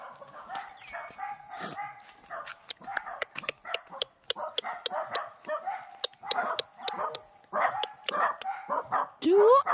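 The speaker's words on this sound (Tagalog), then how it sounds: "Grabe ang mga aso." Several dogs bark and yip in quick, irregular bursts nearby, mixed with whimpers, while a person talks over them.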